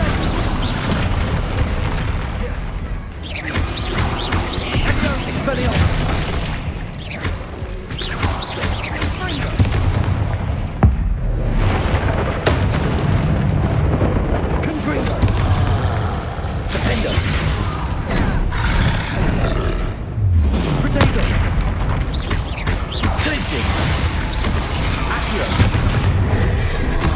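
Spell blasts and explosions from the Hogwarts Legacy video game erupt in a dense, continuous battle of booms, bangs and whooshing impacts, loud and close, with occasional shouted incantations mixed in.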